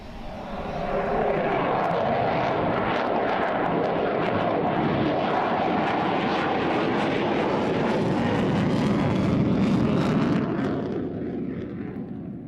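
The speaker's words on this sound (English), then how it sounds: "that fantastic display of the Ukrainian Su-27" A Ukrainian Su-27 fighter jet roars loudly in a sustained, rumbling flying display at an air show, the thunder swelling and holding before slowly fading.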